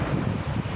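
Seaside wind buffets the microphone at Pasyagun beach while waves wash in, a low rumbling gust and surf noise that swells and ebbs over a moment, fairly faint and alone.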